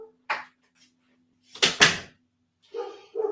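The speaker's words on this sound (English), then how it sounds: "I think I better shut my door." An indoor door is pushed shut with a cluster of loud knocks and a thud in the middle, set between silences, followed by a brief voice.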